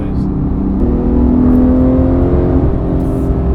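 A Porsche 911 GT3 Touring engine pulls steadily from inside the car, its tone climbing as it gains speed, with a constant rumble and a rising harmonic drone heard close up. Brief voices come in over it.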